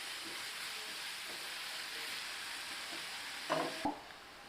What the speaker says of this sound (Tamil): இந்த வெங்காயம் வதங்குறதுக்கு ஒரு 1/4 தேக்கரண்டி உப்பு சேர்த்துக்கலாம். நல்லா கலந்து விட்டுக்கலாம்.